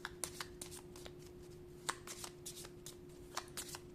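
Tarot cards shuffled by hand close up, a steady run of crisp riffling flicks and snaps lasting several seconds with no talking.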